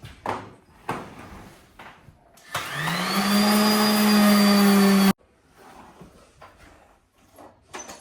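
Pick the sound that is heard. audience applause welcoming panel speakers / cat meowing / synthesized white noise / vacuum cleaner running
vacuum cleaner running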